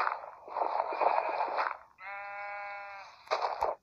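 Sheep bleat in a Minecraft-style game, three short bleats in a row, the middle one a clear wavering tone, close and alone.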